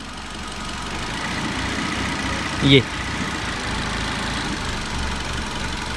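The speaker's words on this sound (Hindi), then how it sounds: "इंजन की मिसिंग क्या है, यानी कि इंजन हल्का सा वाइब्रेट करेगा" A car engine with a misfire runs close by as the throttle is worked, a steady low rumble with one short sharp tonal blip midway, while someone speaks over it.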